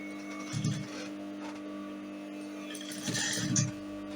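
A sewing machine top-stitching a welt pocket: a steady mechanical hum broken by two short, louder bursts of rapid stitching, close by with no talk.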